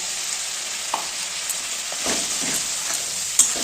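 Masala frying in a pan for Bengali-style aloo dum with a splash of water, a steady close hiss of sizzling with a few soft stirring scrapes and light clinks, no voices.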